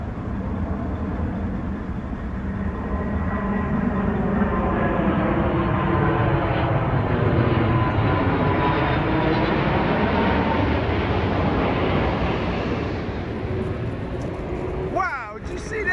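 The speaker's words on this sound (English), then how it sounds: "That was a big old plane, wasn't it?" A large airplane passes low overhead near an airport, its heavy engine roar building and holding for many seconds with shifting, sweeping tones before fading, heard from inside a truck.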